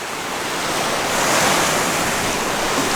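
Continuous rushing water from a small waterfall next to a campsite in the Smoky Mountains, a broad, steady roar that swells slightly midway, with no one speaking.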